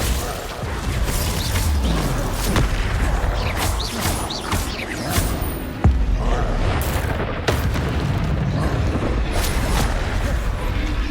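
Spell blasts from Confringo and Glacius crack and boom through a busy Hogwarts Legacy battle, dense with overlapping impacts, whooshes and game effects at steady high loudness across the stretch.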